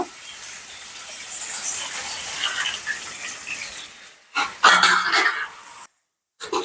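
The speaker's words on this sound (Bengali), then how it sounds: "একটু পানি দিয়ে দেবো মশলা কষানোর জন্য" Water splashes into a hot pan of frying spices and onion-ginger-garlic paste for a Bengali pabda fish curry, giving a steady broad sizzle and hiss with a louder burst of bubbling near the end, briefly cut off.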